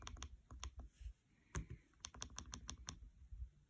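Keys on a computer keyboard are tapped in quick, uneven bursts of clicks, close and fairly quiet, with short pauses between groups of strokes and no talking.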